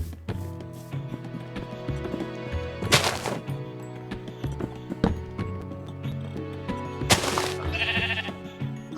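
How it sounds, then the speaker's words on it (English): Sheep bleating in the Minecraft video game, a couple of loud, close bleats standing out over game footsteps and thumps, with a scattering of other short effects. "That little sheep, like, ate my crafting table."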